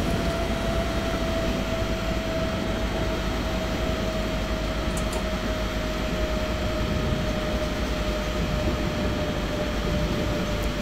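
A train braking in the video game Train Simulator 2018, a steady loud rumble of rolling wheels under a faint, slowly sinking whine, continuous with no talking.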